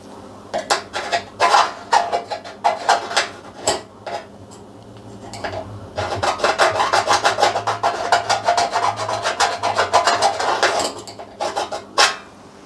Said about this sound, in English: I'm going to scribe a line down here